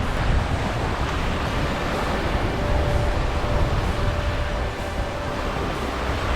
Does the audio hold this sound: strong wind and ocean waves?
yes